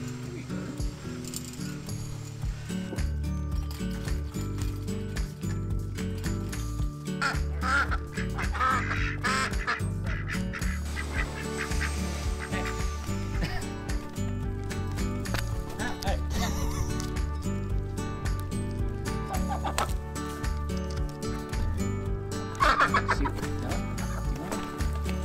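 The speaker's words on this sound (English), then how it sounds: "They gave me some bread and lettuce to feed goats and ducks." Ducks quacking amid clucking fowl at a petting farm in Arkansas while ducks and goats are fed bread and lettuce, steady close calls layered over continuous music.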